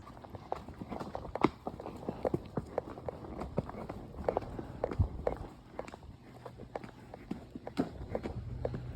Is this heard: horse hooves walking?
yes